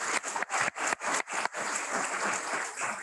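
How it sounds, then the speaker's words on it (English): An audience at an engineering academy induction banquet applauds, starting with a few rhythmic surging bursts before settling into a continuous wash of clapping. "So a round of applause for her."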